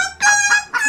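Chicken skin in Stumble Guys giving a short, loud, nasal clucking call, two or three quick bursts within a second.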